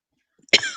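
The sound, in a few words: cough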